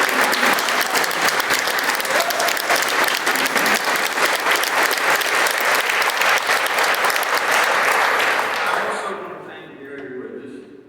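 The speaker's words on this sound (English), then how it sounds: "So please give them a round of applause." A large audience at a broadband-focused event gives loud, dense applause for about nine seconds before it fades quickly into quieter room sound and a voice.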